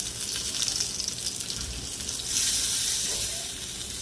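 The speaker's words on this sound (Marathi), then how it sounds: "दोन्ही बाजू भाजून घेऊया आपण" Bangda mackerel pieces fry in a pan Malvani style, giving a steady, moderately loud hiss that swells briefly louder partway through, with no talking.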